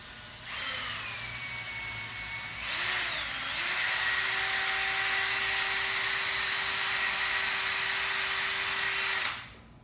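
A power drill whirs up and spins at a steady high pitch for several seconds, then stops abruptly.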